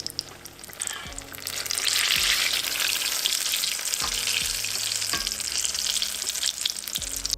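Whipped eggs frying in oil in a pan, a steady loud sizzle throughout with periodic scraping stirs and soft utensil knocks, close and without talk.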